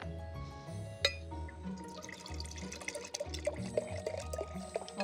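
White wine being poured from a bottle into a glass during a blind tasting, a steady liquid trickle with small drips and clinks, close and fairly quiet against light room noise.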